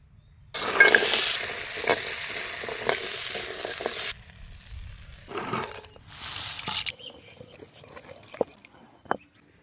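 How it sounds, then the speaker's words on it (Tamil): Green tamarind sautéing in oil with rock salt, curry leaves and coriander gives a bright, close sizzle in two long stretches, broken by a quieter gap, with scattered scraping and tapping of a spoon against the pan. "கல் உப்பு, எண்ணெய் ஊற்றி புளியங்காயை வதக்கலாம்."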